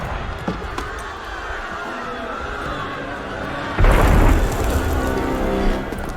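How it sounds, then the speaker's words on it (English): A loud, deep boom of cannon fire erupts partway through in a tense street scene from Assassin's Creed Unity, its heavy rumble following a stretch of restless crowd noise and lingering for a couple of seconds. "That was cannon fire."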